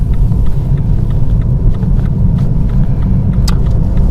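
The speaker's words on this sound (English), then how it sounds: "I'm going to take first gear now, scanning into the junction, second gear before we turn." A car engine pulling away in first gear at a junction during an advanced demonstration drive, a steady, fairly loud low rumble of engine and road noise throughout, with no talking.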